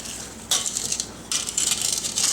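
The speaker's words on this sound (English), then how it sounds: "you're going to give this a really good stir" Strawberries being stirred in syrup for canning, heard as two bursts of wet, close scraping and clinking against the bowl, split by a short pause.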